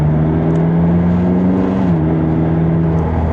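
A McLaren 600LT Spider, a rear-wheel-drive supercar with its engine mounted behind the cabin, droning loudly from close range during a mild acceleration, its steady engine note briefly dipping and settling near the end.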